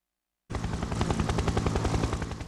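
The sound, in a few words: helicopter flying over fires in video game Fire Heroes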